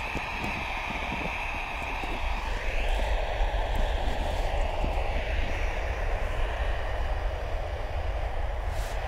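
An airliner's departure roll at Bristol Airport: a steady, loud broadband engine roar that builds slightly after the first couple of seconds and holds constant, with no talk over it.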